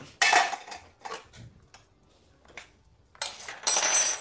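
Knife and metal utensil clinks while preparing tacos in a video game, a few sharp isolated clatters with gaps between them, then a louder burst of rattling at the end.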